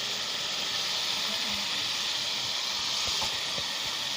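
Chicken and potatoes with tomatoes fry in a pan with a steady, broad hiss and sizzle, constant and fairly loud, with a few faint knocks underneath.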